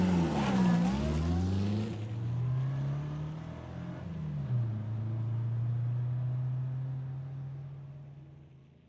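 A car pulls off and accelerates away as a story sound effect, a loud engine note climbing and shifting through gears over about nine seconds, steady and close, with no talk.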